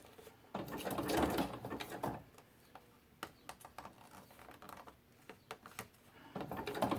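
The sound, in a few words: sewing machine sewing book page paper ruffles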